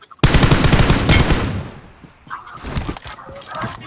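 Gunfire in a first-person shooter video game, rapid automatic bursts loud at first, then scattered shots and impacts fading into quieter clatter.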